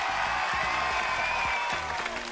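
Studio audience clapping on a game show, a brief burst of steady applause at moderate level that fades slightly toward the end.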